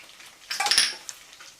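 Sweet and sour chicken stirred in a pan, one brief burst of metallic scraping and clinks lasting about half a second, then a single small knock.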